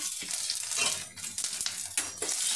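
Green chillies, onion and garlic hit hot oil in a pan, giving a loud, dense, steady sizzle with faint stirring scrapes, close up and without speech.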